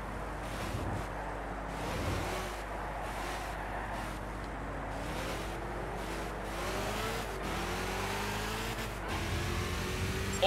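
A race car engine roars continuously in Gran Turismo 6, pitch sweeping up and down through gear changes as it accelerates, steady and loud throughout with no talk.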